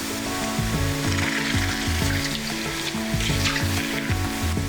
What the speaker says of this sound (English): you drop it into the water. And as you can see, it's instant boiling water.